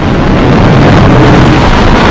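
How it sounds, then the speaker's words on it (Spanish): A helicopter flies over after an explosion, its rotor and engine making a loud, close, unbroken roar and rumble throughout. "Un helicóptero sobrevoló la zona luego de la explosión"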